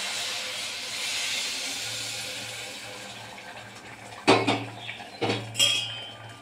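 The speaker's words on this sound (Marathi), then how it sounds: "आणि आता ह्यामध्ये आपण गरम पाणी घालूया" Hot water poured into a pressure cooker of soybean pulao arrives in two short, loud splashing gushes near the end, with metal clatter, after a quieter stretch of background hiss.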